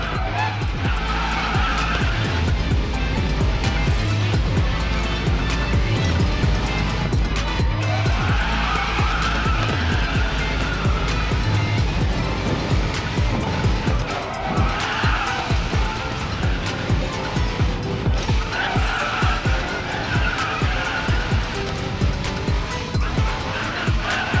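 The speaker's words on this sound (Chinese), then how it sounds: "别忘了在浮标处拉手刹车" Tires squeal and skid almost without pause as a Bugatti drifts under handbrake in a racing video game, the loud screech riding over a steady engine roar for the whole stretch.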